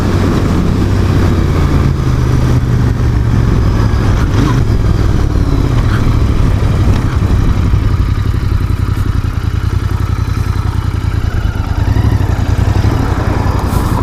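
A Royal Enfield Continental GT 650 motorcycle being ridden, its steady low engine drone and road noise loud and continuous throughout, with no talking.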